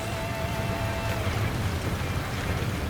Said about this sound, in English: Now, rain arrows upon them!